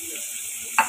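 Onion and two dried chillies frying in a pan give a steady, moderate hiss, broken near the end by one sharp scrape as they are stirred.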